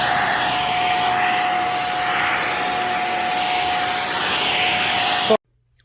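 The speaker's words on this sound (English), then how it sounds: "I'm vacuuming so hard right now." A vacuum cleaner runs loudly with a steady whine and broad airy roar, then cuts off abruptly into near silence.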